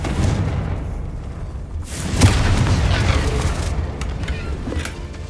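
A Confringo blasting spell in Hogwarts Legacy, heard as a deep rumbling boom that swells around the middle and rolls on under dense game noise, loud and continuous.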